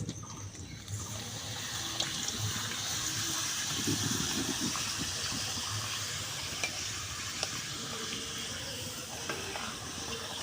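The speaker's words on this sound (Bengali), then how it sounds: "সমস্ত পাঁপড়গুলো আমার ভাজা হয়ে যাচ্ছে" Papad crackles and sizzles as it fries in hot oil, a steady bubbling hiss with occasional stirring scrapes, fairly quiet and close.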